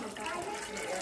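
A cup of water is poured into a cooking pot while an Ilocano river snail and squash dish is prepared, a brief, continuous splashing trickle of liquid close by.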